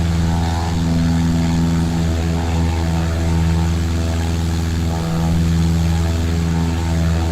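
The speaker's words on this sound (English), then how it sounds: "It's actually a firefighting plane." A firefighting tanker plane flies overhead in a flight simulator game, its steady propeller engine drone loud and continuous throughout, with no voices.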